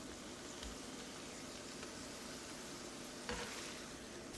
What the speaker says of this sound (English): so we can get our potatoes cooking